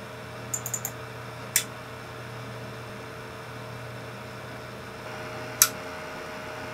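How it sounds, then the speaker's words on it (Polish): Sharp mechanical relay clicks from a 3dfx PCI graphics card inside a Pentium 166 computer case: a quick rattle of small ticks, then one louder click and, after a pause, another, over a steady low hum. "za każdym razem jak odpala się dopałka, z obudowy słychać takie... dziwne kliknięcie"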